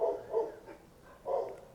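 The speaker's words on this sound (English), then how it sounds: "No, the dog is barking." A dog barks indoors in a workshop, two bursts of moderate barking separated by a short pause, heard at some distance with no talking.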